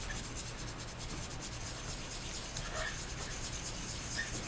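A Hasegawa Lancia Stratos plastic model kit being sanded by hand with 240 and 400 grit sandpaper, a soft continuous scratchy rubbing in short strokes, close and quiet with no talking.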